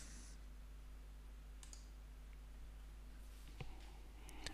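A computer mouse gives a few faint, crisp clicks, including a quick double-click, spaced out against a very quiet room hum with no speech.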